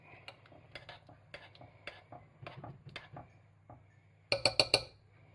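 A spoon stirs salted potato, celery and carrot soup in a pot, with soft scattered clinks and then a short cluster of four sharp metallic taps against the pot rim near the end, quiet and close.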